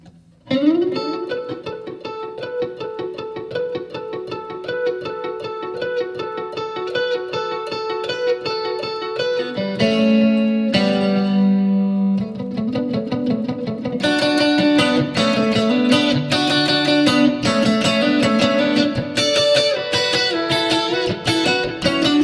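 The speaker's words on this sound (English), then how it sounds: "A little bit of overdrive." Electric guitar with light overdrive, delay and reverb, sustained notes and repeating echoes blending into a loud, washy texture throughout.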